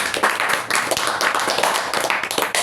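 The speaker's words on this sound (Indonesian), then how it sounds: "Tepuk tangannya pundi." Hand clapping from an audience at an Indonesian health seminar, a dense, busy patter of many palms filling the room steadily, with a few sharper individual claps poking through the wash.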